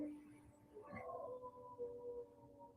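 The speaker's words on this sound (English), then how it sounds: "Sorry if you were hearing the dogs." Dogs howl faintly in the distance, a long, wavering cry rising partway through and trailing off, with a quiet indoor background.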